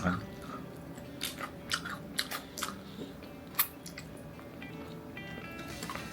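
Fried chicken is chewed close to the mic in a quiet room. A few soft, moist bites and squishy chews come in irregular bursts, with only slight crunch.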